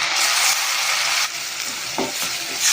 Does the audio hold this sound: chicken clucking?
no